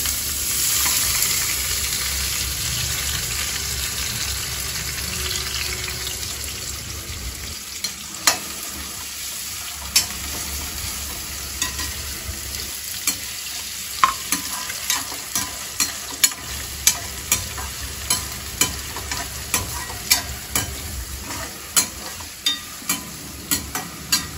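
Mustard seeds and onion fry and crackle in a pan, with a steady close sizzle throughout and sharp popping spatters and stirring clicks growing more frequent in the second half.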